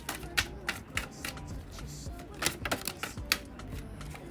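Oracle cards being shuffled by hand, a quiet series of crisp, irregular riffling clicks and flutters close by, with no talking over them.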